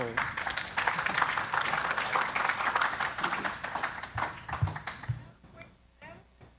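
Conference audience applauding, a dense spread of claps that holds steady for about five seconds, then thins into scattered claps and fades, with voices murmuring underneath.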